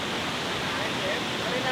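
A waterfall on a Canadian road trip roars in a steady, dense rush of falling water, loud and close, with no break.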